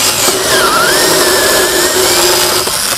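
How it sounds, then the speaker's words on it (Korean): A compact cordless mini chainsaw bites through a thick log wider than its guide bar, its motor holding a steady, loud, close whine with a constant cutting rasp and no pauses. "지금 이미 가이드바 길이보다 나무 굵기가 굵기 때문에 이런 굵은 용도의 나무를 자르는 용도는 아니지만 지금 보시면 이렇게 멈추지가 않아요"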